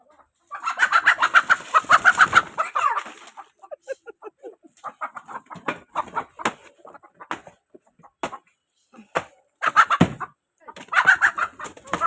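Chickens being chased squawk and cluck loudly at close range in frantic bursts, with a flurry of agitated calls at the start and more scattered clucks throughout.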